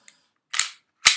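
An airsoft S17 Stark Arms combat super grade pistol fires two sharp, close, snappy shots about half a second apart, with a faint click just before.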